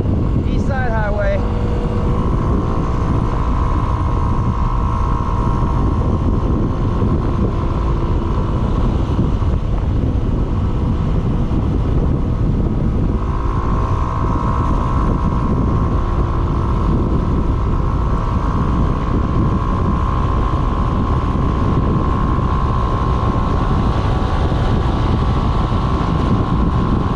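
A Yamaha SMAX 155 scooter runs at speed on a highway, a continuous loud drone of engine and road noise mixed with heavy wind rush for the whole stretch.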